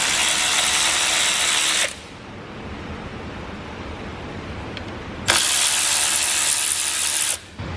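A ratchet backs out 10 mm bolts holding the fuel injectors on an engine: two loud, whirring power-tool bursts of about two seconds each, separated by a quieter stretch of faint handling noise.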